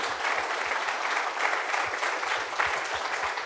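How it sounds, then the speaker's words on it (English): A lecture audience applauds a philosophy professor, a steady, dense wash of clapping from many hands that holds at an even level without a break and with no voices. "if we could offer another round of applause for Professor Hösle"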